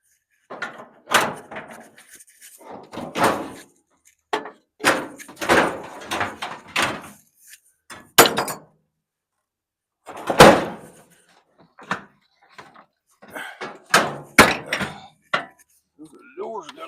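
Heavy door of an electric clothes dryer being opened and handled during scrapping, with a series of loud, sharp knocks and thuds spread across the clip and speech between them.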